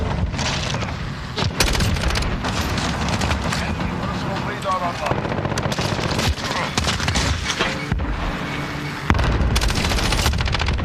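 Mounted machine gun fire in the shooter game Call of Duty: Modern Warfare, rapid and loud bursts with booms and sustained fusillade running throughout, mixed with a voice speaking over the action.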